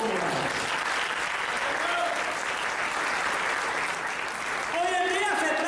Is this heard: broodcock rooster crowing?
no